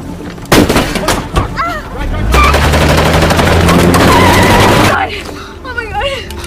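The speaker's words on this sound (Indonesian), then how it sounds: "sehingga mereka pun telah terkena kendala dan baku tembak" Automatic weapons fire rattles steadily through an armed battle scene in a film, loud and sustained for a few seconds, with shouting voices and talk before and after the barrage.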